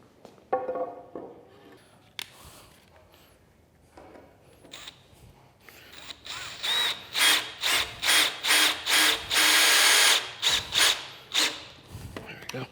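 Power drill driving screws to fasten wooden end pieces onto a joist for a chicken coop, in a run of short, loud bursts that start sparse and quicken into a steady series of about eight whirring pulses.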